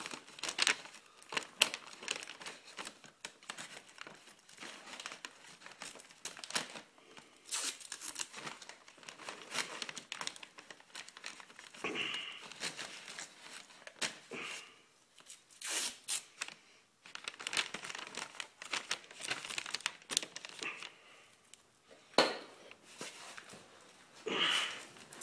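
Masking tape and paper being torn, crinkled and pressed onto a Dodge Ram truck during bodywork prep, giving close, busy crackling and rustling bursts that stop and start throughout with no talking.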